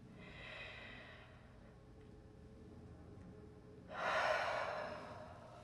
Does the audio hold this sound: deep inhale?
yes